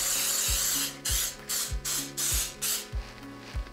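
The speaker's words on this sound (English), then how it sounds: "I'm going to spray them down with some cooking spray" Several short, sharp hissing bursts of aerosol cooking spray sprayed into loaf pans in quick succession, layered over a steady rhythmic mechanical clicking.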